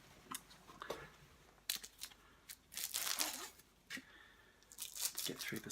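Cellophane wrapping being torn and pulled off a hardcover photography book: close, quiet bursts of crinkling, crackling and tearing plastic, irregular and intermittent over several seconds.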